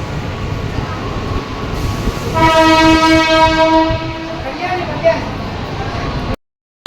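Busy train station at Chhatrapati Shivaji Maharaj Terminus in Mumbai, where a train horn sounds a sustained tone for a few seconds over steady crowd murmur and platform noise.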